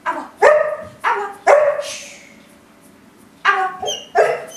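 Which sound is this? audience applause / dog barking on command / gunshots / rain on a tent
dog barking on command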